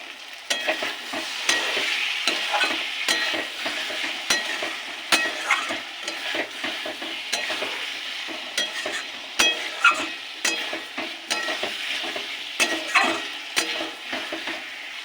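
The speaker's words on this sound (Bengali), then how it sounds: "ভালো করে কষিয়ে নিয়েছি দেখুন তেল ছেড়ে এসছে" Potato and pointed gourd curry sautés in oil in a pan. A steady frying sizzle runs under repeated scraping stirs of a spoon against the pan in an uneven rhythm, close and unaccompanied by talk.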